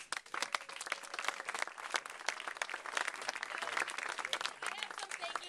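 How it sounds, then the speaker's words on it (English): Audience applause fills a Virginia LGBT Democratic fundraiser, a dense, steady wash of many hands clapping close by throughout, with crowd noise mixed in. "So I'd like to give you all a round of applause"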